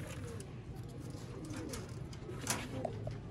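Pigeons kept for sale at a Ferozpuri breeder's setup coo softly and continuously in low throaty rolls, a flock murmur close by with a couple of brief higher chirps.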